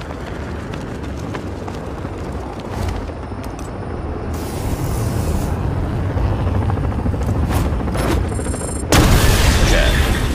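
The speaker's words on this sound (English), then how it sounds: "Choppers are taking flight as we speak, Batman." Helicopters flying in the Batman Arkham Knight video game, a loud steady rotor roar with rumbling booms and scattered impacts mixed in, continuous and close.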